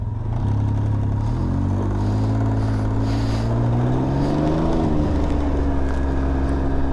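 A 2022 Can-Am Ryker Rally three-wheeled motorcycle out on a test ride, its engine droning loud and steady with the pitch rising and falling through gear changes, under constant wind rush.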